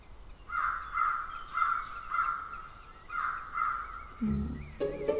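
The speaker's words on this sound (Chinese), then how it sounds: "不就是乌鸦吗？ 雀形木鸦科约25种黑色鸟类的俗称罢了。" A crow caws in a forest, giving a series of about six harsh, evenly spaced calls at moderate distance, followed by a brief different sound at the end, with no talk.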